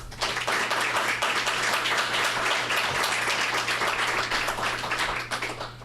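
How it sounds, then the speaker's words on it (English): A studio audience applauds the candidates after a Smith County mayoral debate. The clapping is sustained and crisp for several seconds over a low electrical hum, then thins slightly at the end. "Let's give a big round of applause to our Smith County Mayor candidates tonight."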